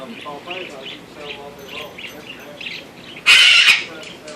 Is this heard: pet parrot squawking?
yes